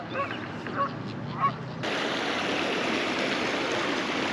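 Geese honk a few times beside a fast-flowing river, and then the steady rush of water takes over and fills the rest of the sound loudly and evenly.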